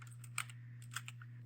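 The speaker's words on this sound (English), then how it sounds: "go to Start and type in the command line" A few soft key clicks on a computer keyboard as CMD is typed, sparse and quiet over a steady low electrical hum.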